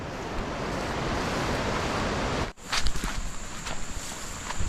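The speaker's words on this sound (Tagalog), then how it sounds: "Yan ang lakas ng tubig." Strong rushing water and waves make a loud, steady roar for about half the clip, then give way to a quieter scene with scattered knocks and wind.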